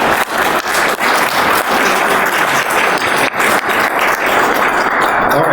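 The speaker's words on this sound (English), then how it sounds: "huge round of applause for Frank and Lisa" A dense, steady round of audience applause at a keyboard convention artisan panel, many hands clapping together loudly and evenly for several seconds with no break.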